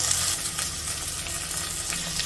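Cluster beans fry with sliced onions in a hot pan, giving a steady loud sizzle with soft crackles throughout and no voices.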